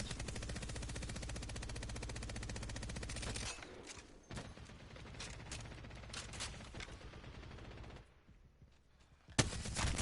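Sustained automatic gunfire from a legendary weapon in the video game Apex Legends, a dense unbroken stream of shots that cuts off into scattered bursts and single cracks, loud and close.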